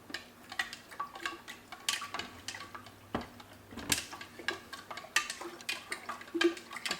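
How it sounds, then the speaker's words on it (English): A spoon stirring honey into a blueberry mead batch in a dish, making irregular clinks and scrapes against the container, close and quiet, with no talking. "right now he's stirring the batch"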